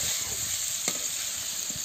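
Drained bitter gourd pieces fry in a hot pan, giving a close, steady sizzle with one sharp crackle midway and soft stirring scrapes.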